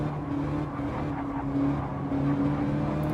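An onboard race car engine at Suzuka hums steadily with slight throttle feathering, a constant close engine drone with small rises and dips in loudness.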